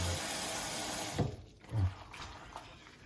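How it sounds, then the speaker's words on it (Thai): Water drains and splashes as salted cabbage is squeezed by hand for homemade kimchi, a steady trickle followed by a couple of soft wet squelches, faint and close. "เราก็จะจับบีบบีบน้ำเลยนะครับ บีบให้ให้ให้แห้งที่สุดยิ่งดีเลยนะครับ"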